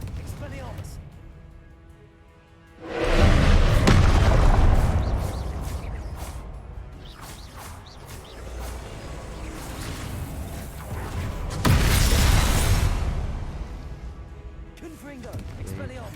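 Loud whooshing fire and explosive bursts from Confringo and Incendio spells cast in Hogwarts Legacy, two big surges of roaring blast noise amid ongoing combat effects.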